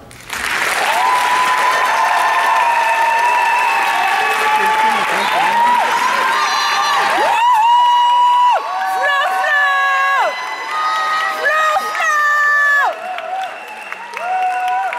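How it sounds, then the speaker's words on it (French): Applause and cheering from an audience at a marketing bachelor's diploma ceremony, a sustained wash of clapping with whoops and shouts, overlaid by loud tonal music or sustained tones that shift pitch throughout. "Vous méritez bien collectivement nos félicitations et nos applaudissements."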